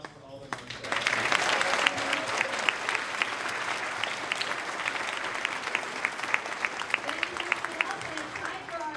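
Crowd applause at a 2019 awards ceremony swells quickly and holds as sustained, dense clapping from many hands, with voices murmuring faintly beneath it.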